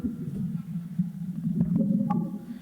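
Russian meteor explosion detected thousands of kilometres away, heard as low, bubbly blup-like pulses over a steady deep drone, muffled and distant, with no speech.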